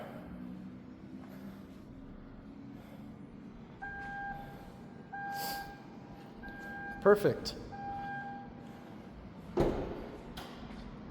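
The power tailgate of a 2026 BMW X3 M50 xDrive lowers to a repeating electronic warning chime, then shuts with a soft thump and later a second knock. The sound is quiet overall, and a voice speaks briefly.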